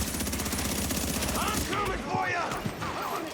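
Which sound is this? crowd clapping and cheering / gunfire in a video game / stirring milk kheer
gunfire in a video game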